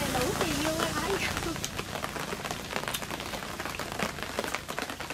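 Steady rain falling at a roadside stall in the Mekong Delta countryside, a constant dense patter throughout with faint background voices mixed in.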